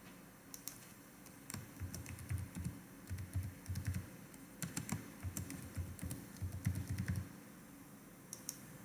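A password is typed on a computer keyboard in short, quiet runs of soft key clicks and taps, close by, pausing briefly between bursts with no voices.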